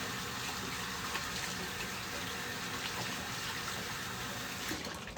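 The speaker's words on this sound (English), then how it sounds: "I'm just gonna wash my hands real quick." Steady broadband hiss of a running kitchen tap as hands are washed under the stream, continuous and fairly faint, with no talking.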